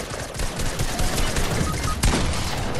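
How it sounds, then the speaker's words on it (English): Rapid bursts of video game gunfire crackle close and loud, overlapping shots firing in quick succession for a few seconds. "Who's shooting?"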